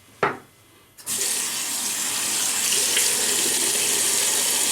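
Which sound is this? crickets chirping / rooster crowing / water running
water running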